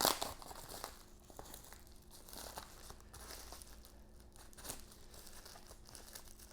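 A plastic bag from a Tesla Model 3 wheel cover package being opened, close crinkling and rustling with a sharp tear at the start and scattered crackles after.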